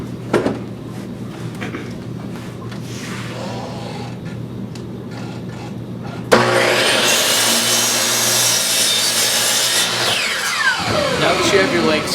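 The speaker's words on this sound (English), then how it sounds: "you're going to swing your miter saw to 30 degrees on the right side of 0 and cut 30-degree angles on both ends of all 4 of your legs" A miter saw, swung to 30 degrees, cuts angled ends on wooden legs for a child's picnic table, a loud steady whine that starts abruptly midway and runs several seconds after quieter workshop noise.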